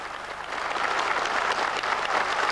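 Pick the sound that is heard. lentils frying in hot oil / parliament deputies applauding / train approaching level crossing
parliament deputies applauding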